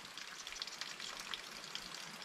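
Heavy rain falling outside a mountain cabin during a long stormy spell: a dense, even hiss of drops with scattered sharper patters, steady and moderately distant, with no voices.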